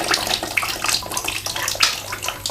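Water gushes out of a household radiator through an opened air vent at the end, a steady, close splashing rush that keeps going throughout with no voices.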